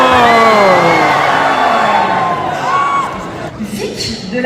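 Crowd at a cosplay contest during a manga convention in Lausanne, loud shouting and cheering voices rising and falling, with whoops and yells layered over a noisy hall.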